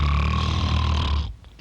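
Loud, rasping snoring from a sleeper in a Telugu comedy film, one long, rough, guttural breath that drones heavily and then drops away into near quiet.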